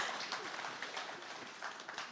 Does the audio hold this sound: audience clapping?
yes